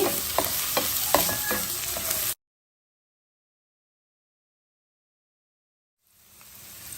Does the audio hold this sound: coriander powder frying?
yes